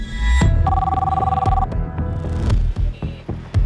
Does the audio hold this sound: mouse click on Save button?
no